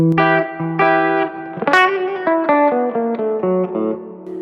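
Distorted high-gain electric guitar with a muffled, dark, dull tone, playing a slow melodic phrase of sustained notes with a brief bright pick scrape midway.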